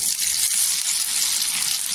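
Garlic dropped into hot oil tempered with cumin for moong dal varan sizzles and fries steadily, a bright continuous hiss close by with no talking.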